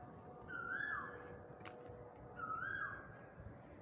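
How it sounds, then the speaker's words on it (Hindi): An Asian koel calls twice in an empty park, each a rising whistled phrase with a pause between, fairly faint over a soft, quiet background. "खाली हम और कोयल की आवाज़ आ रही है।"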